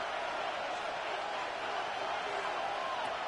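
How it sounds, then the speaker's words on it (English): Stadium crowd in Madden 26, a Saints versus Falcons football game: a steady, dense roar of many voices that stays loud and even throughout. "That just means this crowd's going to get even louder."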